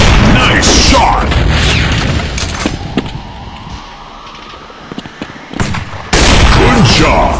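Gunfire from an offline first-person shooter game on Android and iOS, rapid bursts of booming automatic shots with louder volleys at the start and end and scattered single pops between, dense and close.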